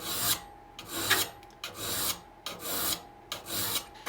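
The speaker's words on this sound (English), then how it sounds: "A little easier for me with a triangular file." A triangular file rasps across hand saw teeth during sharpening in a timber framing shop, in five close, loud strokes with a steady back-and-forth rhythm and short pauses between them.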